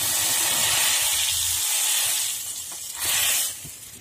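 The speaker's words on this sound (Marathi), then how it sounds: "हे बघा आता जिरे तडतडले आपले व्यवस्थित" Cumin seeds tempering in hot oil for a Marathi fasting dish give a loud continuous hiss and sizzle close up, easing off near the end with fine crackles.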